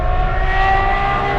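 Aston Martin Valkyrie supercar, built with Red Bull, holds a steady high-pitched engine whine with dense rising harmonics, loud and close, with no voices.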